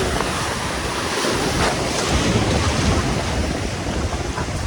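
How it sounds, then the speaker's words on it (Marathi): Big sea waves breaking on a shore, a loud continuous roar of surf with strong wind buffeting the microphone, no voices. "समुद्राच्या पाल्या मोठ्या मोठ्या लाटा लयच मोठ्या मोठ्या यायला लागल्या"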